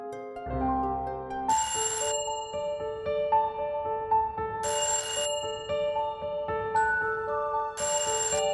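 A bright electronic phone ringtone plays a repeating melodic pattern, with bursts of shimmering chime accents recurring every few seconds.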